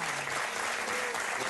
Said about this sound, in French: Je pense qu'on peut applaudir Mylène.